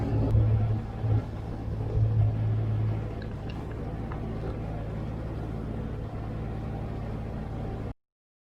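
A sailing yacht motoring under engine power into thick fog, a steady low diesel drone with a throbbing rumble that runs evenly and then cuts off abruptly.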